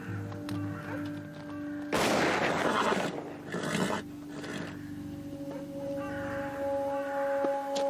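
A hunter's stray gunshot as a dramatized effect: one sharp, loud crack partway through with a roughly second-long decaying tail, over a steady droning background with crow-like caws.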